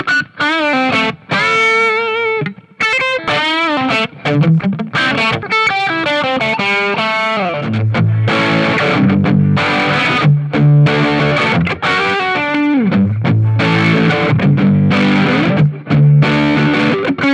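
A 2021 PRS McCarty 594 Hollowbody electric guitar played loud through heavy distortion, with ringing sustained chords, quick riffs and bent notes filling the whole passage with no talk.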